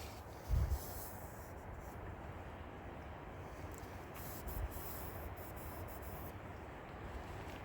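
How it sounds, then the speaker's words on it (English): A white cloth rubs down a gunk-coated part of a Panzer EG200 gun, making a steady, close scrubbing hiss that runs throughout with a couple of brief, louder bumps. "I got a white cloth, and I'm just gonna rub this down"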